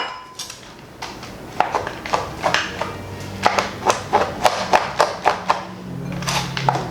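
A knife chops chocolate chips on a cutting board for a ganache, a steady run of close, crisp thuds and taps about every third of a second, gaining pace partway through.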